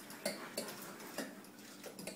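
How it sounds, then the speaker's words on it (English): Spicy sweet barbecue sauce stirred with a utensil, faint light clicks and taps against the pot at an irregular rhythm over a soft, quiet background. "give this a good stir here"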